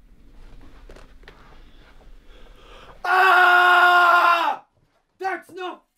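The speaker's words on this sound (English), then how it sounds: "Give me your loudest scream." At an audition, a single person lets out a loud, sustained scream of about a second and a half, then a couple of short strained yelps, following quieter background shuffling.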